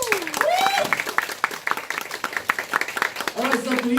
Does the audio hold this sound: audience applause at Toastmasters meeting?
yes